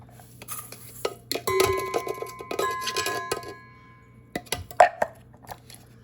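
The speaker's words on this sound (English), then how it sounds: "I'm gonna put that in a bowl" Magic bar mixture being put into a bowl: scraping and clinking of a utensil against the bowl, a few soft thuds and taps in quick uneven bursts, close and fairly quiet, with a brief sharper clatter near the end.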